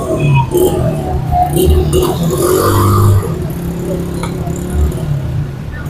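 Road traffic streams past on a busy Lahore street near Data Darbar, with loud, continuous engine rumble and passing vehicles.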